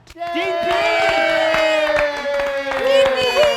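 Audience cheering and applause welcoming a guest on a reality game show, with loud sustained whoops and yells from the crowd over scattered clapping, staying strong throughout.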